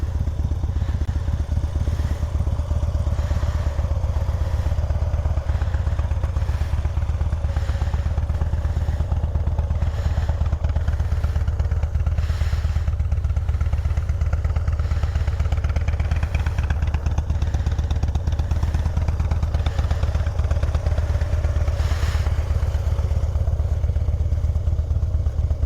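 Harley-Davidson Dyna Glide Street Bob motorcycle on a winter ride, its V-twin engine rumbling loud and steady throughout with continuous low thrum, wind buffeting and occasional clatter, no talking.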